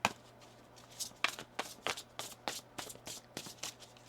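A deck of tarot cards shuffled by hand at close range, with a quick series of soft riffling slaps and flutters recurring in a steady rhythm, faint and without speech.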